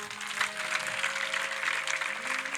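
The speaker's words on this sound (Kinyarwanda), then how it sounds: "Mumfashe kuyishimira muyiha amashyi." Church congregation applauding during a prayer service, a dense steady wash of clapping from many hands that holds evenly throughout, with some tonal background sound underneath.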